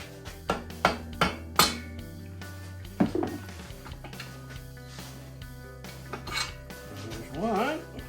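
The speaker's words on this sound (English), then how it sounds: "I'll get my 45-pound sledgehammer here" Sharp metallic clanks and bangs against vintage snowmobile engine parts, a series of irregular strikes with ringing tails, loudest at the start and fading into lighter taps and scraping.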